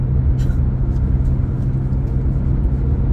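Heavy trucks, including garbage trucks, roll along a New York expressway in autumn, a loud continuous low engine and tire rumble heard from inside a moving car, with no talk.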